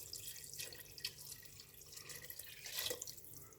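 Water is poured into a pot of veal blanquette in a home kitchen, a steady splashing trickle with scattered drips lasting a few seconds, close and moderately loud, with no talking.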